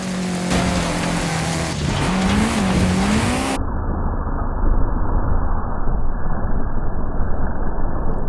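A Camaro ZL1 in a racing video game spins its wheels in sand, giving a steady loud engine roar with a rising and falling tone early on, then a rougher, hissing, wash-like drone.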